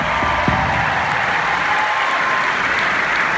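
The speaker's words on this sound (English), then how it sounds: "So please give every member of our crew a huge round of applause." A concert audience at a matinee in Worcester, Massachusetts gives a loud, sustained round of applause for the crew, with dense clapping throughout and no talk over it.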